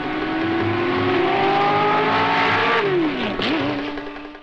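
Loud Ford GT race car engine holds a steady high-revving note, then drops sharply in pitch as it shifts or passes close by, the roar tapering off at the end.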